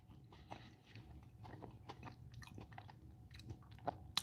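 Someone chews peanut butter Cinnamon Toast Crunch cereal close to the mic, a quiet run of soft crunches and wet munching sounds with irregular rhythm.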